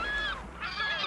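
Gray gulls shriek in a scavenging flock at sea over a dead mola mola sunfish, giving two bursts of harsh, wavering calls with a short dip between them, fairly close and loud over a low rumble of wind and water.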